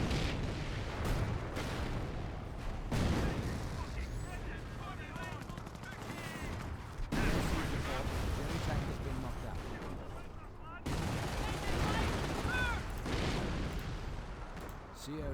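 Distant artillery and gunfire booming through a Company of Heroes battle, dense overlapping blasts in waves with brief lulls, under a steady bed of battlefield noise and a talking voice.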